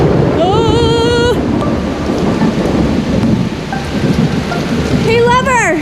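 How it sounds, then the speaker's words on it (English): Heavy rain pours steadily and loudly outdoors on a rough road beside an RV, a constant roaring wash with thunder-like rumble and brief whining tones at the start and end. "Because it's raining."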